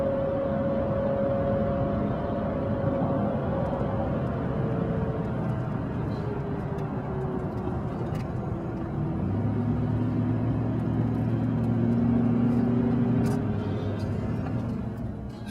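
Car driving along a road on an early morning commute, a continuous low engine and road rumble with tire hiss, close and steady throughout with slight shifts in engine tone.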